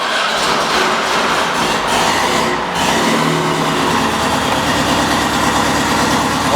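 VW Beetle engine being cranked and then running, a loud continuous mechanical drone and rumble that settles into a steady run partway through.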